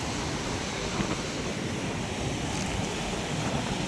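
Ocean waves break and wash against the shore along a Mangalore beach, a loud continuous roar of surf mixed with wind gusts on the microphone, with no voices.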